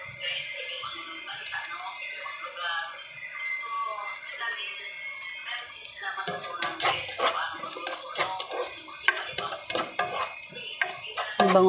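Onion sautéing in a pan with garlic and ginger, a steady sizzle with frequent stirring scrapes and utensil clatter that grow busier midway, heard under intermittent talking.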